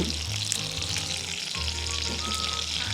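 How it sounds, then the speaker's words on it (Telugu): Loud continuous sizzling of mustard seeds, cumin, dried red chillies, curry leaves and asafoetida crackling in hot oil, nearby and steady, with faint stirring and a low hum underneath. "కరివేపాకు ఇంగు కూడా వేస్తే పోపు ఘుమ ఘుమలాడుతుంది అంతే ఇవన్నీ కొద్దిగా వేగాలి"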